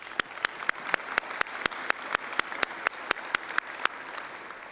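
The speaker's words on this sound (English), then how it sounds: "So I'd like to give Barbara and Bill a round of applause." Applause from a research workshop audience: a steady wash of clapping with sharp, evenly spaced claps standing out, held at moderate level for about five seconds.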